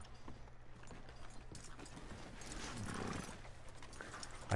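Horse hooves clip-clop at a walk in a Red Dead Redemption 2 town, quiet and fairly close, with a brief whinny partway through and soft ambient game sound behind.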